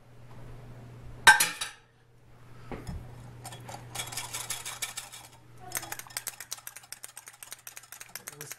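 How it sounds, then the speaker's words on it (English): An olive oil and Dijon mustard dressing is whisked in a bowl, first with a sharp clink, then in rapid light metallic ticking bursts that grow more rhythmic, close and fairly quiet. "Whisk that up a little."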